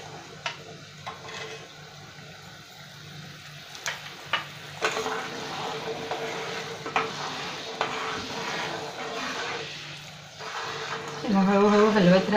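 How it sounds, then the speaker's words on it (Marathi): Amla gooseberries being stirred slowly in sugar syrup in a pan on the stove, with a steady soft bubbling and scraping texture close by, and a voice speaking over it. "हळूहळू हलवत राहायचं आहे."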